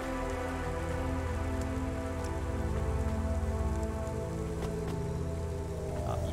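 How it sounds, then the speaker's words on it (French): Rain falls steadily in the cyberpunk video game Cloudpunk, a dense continuous patter of drops on surfaces over a low droning city hum, fairly quiet and with no voices. "il pleut dans les bâtiments"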